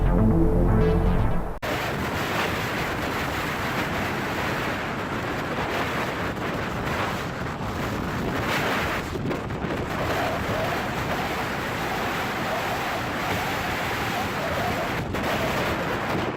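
A large Dutch-flagged fishing vessel pitches through storm waves at sea, with a sustained loud roar of wind and crashing water buffeting the microphone and irregular heavy thuds. It begins with a brief different sound before the roar.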